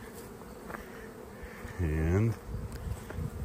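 Honeybees from almond-season hives buzzing, a faint background hum and then one close, loud bee passing with a rising and falling drone, while someone says a single word.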